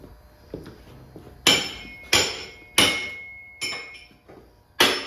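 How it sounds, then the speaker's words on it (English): Claw hammer striking hard during work on mounting a 1949 Ford truck cab: five or six sharp, ringing metallic blows at uneven intervals, close and loud, each with a bright decaying clang, in a quiet shop. "Yeah, the claw hammer."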